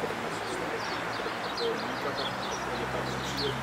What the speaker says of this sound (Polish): No i przyleciała kolejna grupa gołębi, też jakieś 15-20 sztuk.